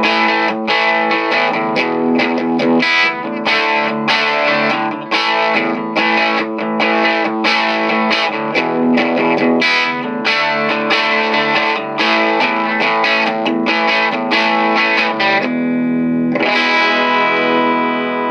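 An electric guitar runs through the drive channel of a Living Tone Brighton amp, playing a steady stream of driven, overdriven chords and notes at a busy rhythm, loud and close with no talking.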